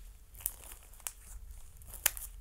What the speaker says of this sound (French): Il faut déchirer. ôter ce plastique.